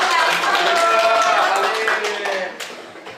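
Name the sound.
audience clapping hands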